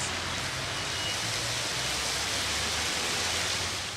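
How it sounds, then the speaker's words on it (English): Heavy rain pours down over Nairobi's central business district on a Sunday morning as a dense, steady roar of broadband hiss without letup, with a low rumble beneath. "As heavy rains pounded the Nairobi CBD through Sunday morning"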